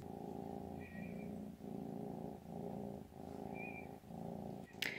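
A pet cat purrs close and steadily in a quiet room, its rhythmic rumbling cycles repeating about every second, with a faint high squeak at one point and a brief click near the end.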